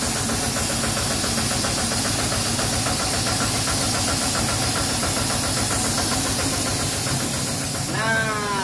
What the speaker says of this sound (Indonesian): ada mesin menghasilkan angin